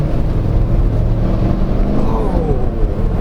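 A 2023 Chevrolet Tahoe Z71 pulls away on partial throttle, a steady, loud engine drone with road rumble heard from inside the SUV, no talking.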